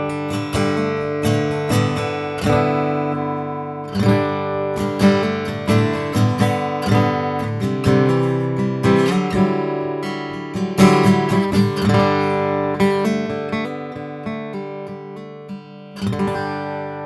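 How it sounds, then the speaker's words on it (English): An Orangewood Sierra TS acoustic guitar is played through its Anthem direct output with an impulse response, giving clear strummed chords and picked notes in a steady rhythm, close and full, with no voices. "the Anthem system in this guitar gives you a really, really natural, great sounding acoustic guitar direct output"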